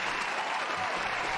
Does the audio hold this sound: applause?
yes